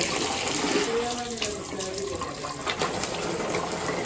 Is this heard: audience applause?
no